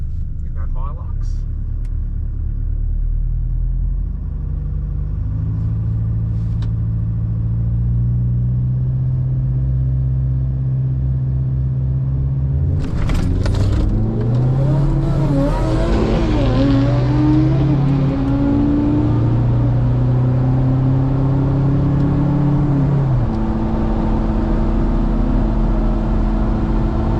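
A diesel Toyota Hilux drag racing at Willowbank Raceway, its engine droning low and steady before revving hard and surging through climbing gear changes, loud and close, with a commentator talking over it.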